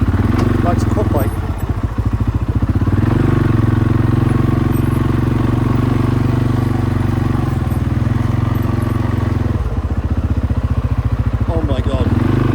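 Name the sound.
quad bike engine running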